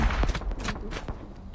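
Several dull, rapid gunshots from a first-person shooter video game in a brief burst, muffled and close, blending with game noise.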